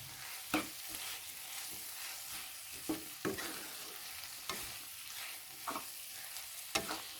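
Spices with kasuri methi, black pepper, salt and red chilli for chicken cheese rolls fry in a pan under a quiet sizzle, with a spoon scraping and knocking at irregular intervals.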